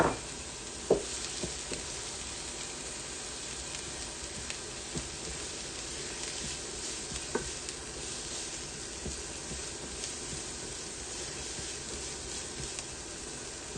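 Diced red and green peppers go into a pot of Montana breakfast chowder, bringing a steady, soft sizzle and hiss throughout, with a few faint clicks and taps from the pot.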